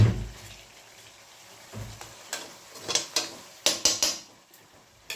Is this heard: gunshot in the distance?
no